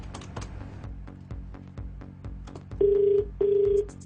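A telephone call is placed: a few soft key taps and clicks, followed by two loud, even ringback tones, each lasting about half a second, with a short gap between them.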